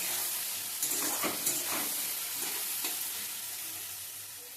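Onions frying with salt and turmeric in a pan for chicken kosha, a loud, dense sizzle with a few scraping stirs near the start, continuous and close, with no speech.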